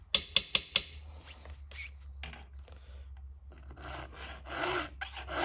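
A file scrapes in short strokes along a STIHL HEXA chainsaw chain. Four quick, sharp rasps open the sequence, followed by scattered softer strokes and rubbing close to the microphone.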